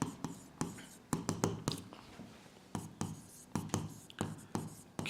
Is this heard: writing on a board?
yes